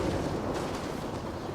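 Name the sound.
explosion blowing up a vehicle in the video game Arma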